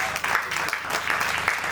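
An outdoor holiday festival crowd claps warmly for a performer, a full, busy patter of hands at moderate distance. The clapping rises and dips slightly but never stops over the short stretch.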